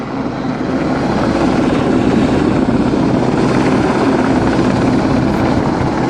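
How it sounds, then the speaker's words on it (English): A Mark IV Sea King helicopter hovers about 150 feet up at an air day display, its rotor and engine roar loud, steady and continuous throughout with no voices. "The venerable Mark IV Sea King hovers in a rock-steady hover about 150 feet."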